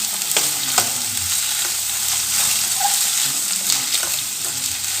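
Carrots and fresh green peas for dal rice stir-frying in a pan, a loud continuous sizzle broken by scraping spoon strokes, heard alone without talk.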